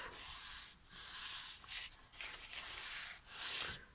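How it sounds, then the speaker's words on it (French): Pencil lines being erased on scrapbooking paper, a rapid series of dry rubbing strokes in short bursts, close and fairly quiet, with no voices. "on va essayer de gommer tout de suite les traits"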